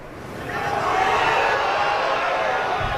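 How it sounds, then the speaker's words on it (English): Crowd at a golf tournament swells into a loud, sustained roar and cheer after a shot, building over the first second and holding steady. "Listen to the crowd on this shot."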